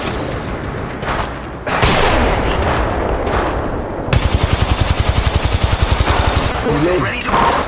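Rapid automatic gunfire from a fully kitted Volt SMG in the mobile battle royale game Apex Legends Mobile, with dense, loud bursts that turn into a steady rattling stream of shots under busy game effects and a voice calling out.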